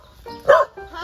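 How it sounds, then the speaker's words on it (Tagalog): Several pet dogs at a home in the Philippines give a loud cluster of barks near the middle. Shorter yips and household noise come before and after. "Ito yung mga pakpok na aso."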